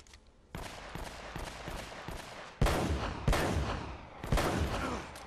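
Bursts of gunfire from the video game Uncharted: Drake's Fortune, several loud volleys with sharp cracks and echoing tails, the strongest arriving mid-clip and near the end, with no talking.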